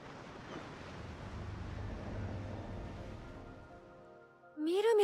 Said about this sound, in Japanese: 波の音が変わった。